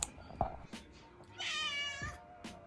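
A cat meows once in a drawn-out, close-up cry in the middle of the clip, with a few soft thumps and quiet household noise around it and no talking.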